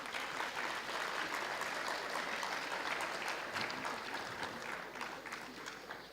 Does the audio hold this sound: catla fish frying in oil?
no